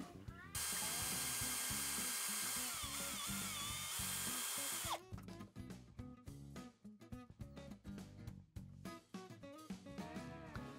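A power drill bolts a mister bracket onto a caravan awning: a steady, loud whine for about four seconds, then a run of sharp metallic clanks and rattles as the bracket is handled.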